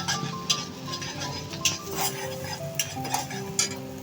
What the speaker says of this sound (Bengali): এখন একটু নেড়ে নিব।